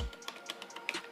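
Keys pressed on a computer keyboard, a quick run of several light, close plastic clicks at an irregular rhythm in a quiet room.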